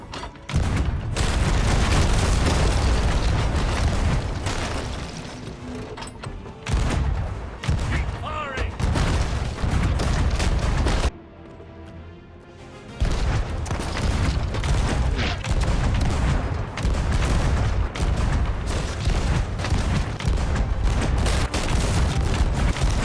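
Ship cannons fire in the pirate game Sea of Thieves, with loud, booming blasts in rapid succession. A brief lull breaks the barrage partway through before the heavy volleys resume.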